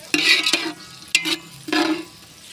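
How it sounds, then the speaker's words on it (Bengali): Onions being fried in a pan, heard as three separate bursts of sizzle and stirring with short pauses between them, close by and without talk. "এই যে এখন পেঁয়াজটাকে আমরা ভেজে নিচ্ছি সুন্দর করে"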